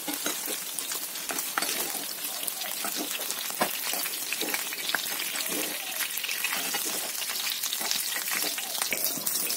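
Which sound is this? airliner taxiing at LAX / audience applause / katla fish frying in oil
katla fish frying in oil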